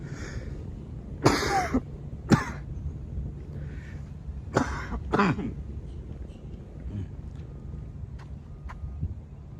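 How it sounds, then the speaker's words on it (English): A few coughs and throat-clearing bursts, close and fairly loud, spaced over quiet background noise with a low steady hum. "That was a cough for sure."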